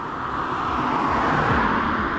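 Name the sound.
road traffic passing by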